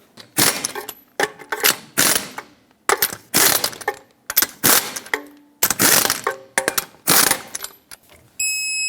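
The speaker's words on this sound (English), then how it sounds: "Let's put the wheel on, put on all 6 of your lug nuts, bottom them out, and torque them to 76 foot-pounds." Lug nuts are tightened onto a Toyota 4Runner wheel, heard as a series of sharp, close metallic ratcheting bursts separated by short pauses, with no talking.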